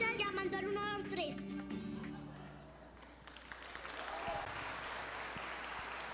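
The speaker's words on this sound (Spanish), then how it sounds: "Ese aplauso más fuerte, por favor, para Juan." Audience applause at a public accountability event held by a city fire and rescue agency, steady clapping beneath a tonal sound at first, then a broad wash of applause that swells slightly, with some faint talk.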